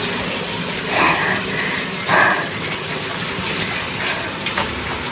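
Cold mountain spring water on a trek at Monte Stagno near Lake Suviana, Italy, gushes in a steady, close, broadband rush that never lets up, with slight swells in the flow and no talking.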